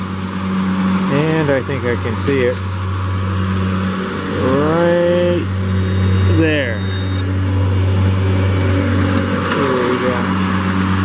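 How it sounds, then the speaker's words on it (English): A lawnmower engine drones steadily in the background through the whole stretch at a park, a constant mid-pitched hum under someone talking. "you'll have to excuse the lawnmower"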